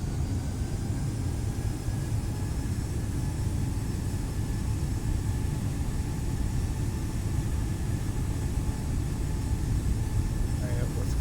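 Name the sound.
Airbus A319 takeoff roll in Microsoft Flight Simulator, a video game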